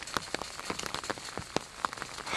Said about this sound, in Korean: 지금 비가 오고 있죠?